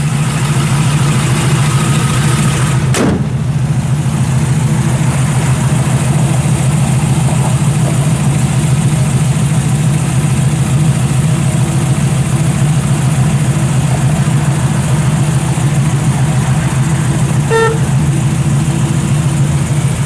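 A 1968 Chevrolet Camaro SS 350 engine idles steadily through a Flowmaster exhaust with a deep, rumbling low hum, loud and close, with a brief sharp click near the start and no talking.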